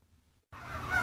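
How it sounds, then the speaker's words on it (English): A flock of thousands of turkeys roaming a farm in Cannon Falls, Minnesota, breaks into a sudden burst of gobbling after a brief near-silence, a dense, close chorus that swells through the final half-second. "there are thousands and thousands of turkeys roaming around his farm in Cannon Falls, Minnesota"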